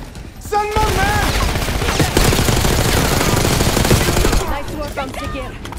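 Sustained automatic gunfire in Call of Duty Black Ops 6, a loud continuous burst of rapid shots lasting several seconds before tapering into scattered sounds.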